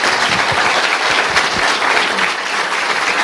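Audience in a lecture hall bursting into loud, dense applause, a steady close wash of many hands clapping that carries through the whole short stretch.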